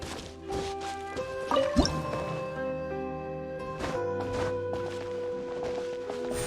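A water droplet emerging from a wall in Genshin Impact, with soft squishy dripping plinks over a layered game music bed, a brief louder splat near two seconds.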